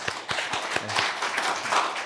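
Members of a Korean church congregation at a Sunday service in Chicago applaud: fairly quiet, scattered clapping with a few distinct hand claps early on, blending into a soft, steady patter.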